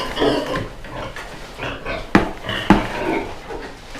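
Large pigs and boars of 200 to 250 kilograms grunt and snuffle close by, with a couple of sharp knocks or bumps partway through, like animals feeding at a trough.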